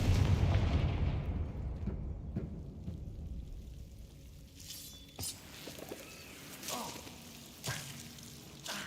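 A Confringo fire spell in Hogwarts Legacy bursts with a loud booming explosion that fades into rumbling debris, followed by a few scattered pops and crackles.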